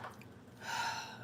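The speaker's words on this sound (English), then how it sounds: "Excuse me if I sniffle." A single short sniffle or sharp nasal intake of breath, close and fairly loud, rising into a breathy rush in its second half.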